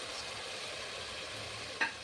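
Fresh vegetables frying in a spice tempering for bisibelebath, a faint continuous hiss of sizzling oil with a couple of brief stirring knocks near the end.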